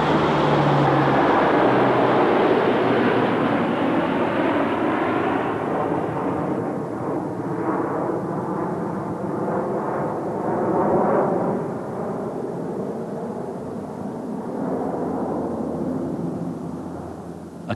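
Hercules transport aircraft in flight during a parachute load drop, a loud steady broadband engine and airflow roar that holds throughout with slight swells, no voices.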